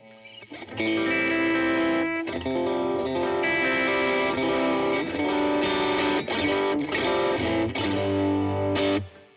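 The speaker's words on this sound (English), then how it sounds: "if I have no reverb on and I just play some chords" Distorted electric guitar chords strummed dry with no reverb, a few sustained chords changing every second or two, loud and close, ending with a sharp cut to near silence.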